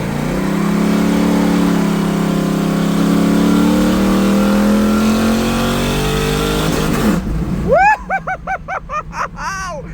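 A 1986 Cutlass with an LS swap engine revs hard and climbs in pitch for several seconds, then abruptly cuts out from a fuel pressure problem. Loud, choppy sputtering bursts and pops follow at close range.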